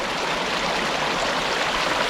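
A river rushing steadily beside a gold-panning spot in the UK, a dense broad wash of flowing water, close and even throughout with no voices.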